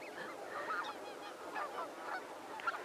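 Waterfowl calling at a wetland wildlife centre in the Creston Valley of British Columbia, a chorus of repeated honking calls in overlapping bursts that stays at a moderate distance with no talking.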